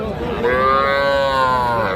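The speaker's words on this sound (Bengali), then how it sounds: "এটা একটা বকনা বাছুর সাতাশ হাজার টাকা হলে এইটা বিক্রি হবে" Heifer calf at a cattle market lowing once, a clear drawn-out moo with a rising then falling pitch lasting over a second, close by over a low background murmur.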